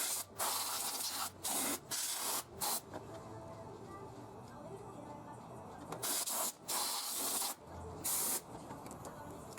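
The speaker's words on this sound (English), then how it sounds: "no reason to listen to the compressor blow for 20 minutes" An air compressor nozzle blows air over a valve cover on a 2005 Ford Explorer Sport Trac 4.0L engine, in repeated short hissing bursts separated by pauses, close and fairly loud.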